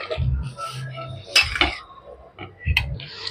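Potato and carrot pieces go into a pot of boiling khichuri made with gobindobhog rice and dal, with several close clanks of utensil on pot among soft bubbling and splashing.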